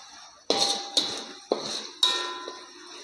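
A spoon scrapes and knocks against a pan while chilli and meat masala paste with turmeric is stirred for egg masala, four distinct metallic clinks with short ringing tails, close and clear.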